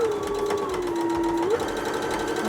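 Sewing machine stitching a seam on a quilted rag bag: a steady close whirring drone with a fast rhythmic needle chatter that runs unbroken throughout, with a brief shift in motor pitch midway.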